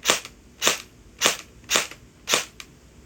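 An MP5 gel blaster with strong blowback fires five single shots at an even pace, each a sharp, loud, close snap followed by a short mechanical clack, with no voices.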